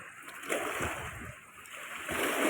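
Water of the Kaveri river at Erode rushes and churns in a broad steady wash of flowing sound, with splashes swelling now and then, heard from nearby outdoors.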